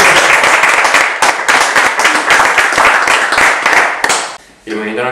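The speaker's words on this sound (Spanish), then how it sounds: "Un aplauso, compañeros." An audience at a talk on the twentieth-century labour movement applauds loudly and continuously for several seconds, then the clapping stops abruptly and a voice begins speaking.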